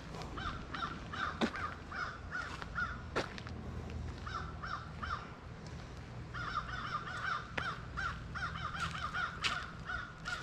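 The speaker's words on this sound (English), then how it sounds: "It's a crow." A crow cawing outdoors at Ray Roberts Lake State Park, Isle du Bois: repeated harsh caws in uneven bursts, fairly faint and distant over a soft open-air background, with a few sharp clicks and no talking.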